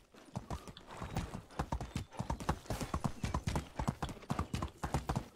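Horse hooves clip-clop steadily in the medieval life-sim video game Medieval Dynasty, a fast, even run of sharp hoofbeats from a stallion, fairly close and continuous for several seconds with no talk.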